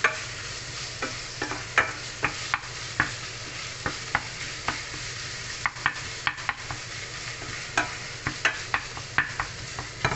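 A spatula stirs minced beef with green beans in a pan, tapping and scraping the metal in a steady run of crisp clicks over a soft background sizzle, close and fairly quiet.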